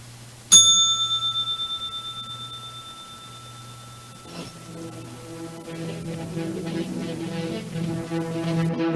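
A single sharp bell strike rings out clearly and fades over several seconds, then a soft, shimmering tonal swell rises and continues to the end, with no talking.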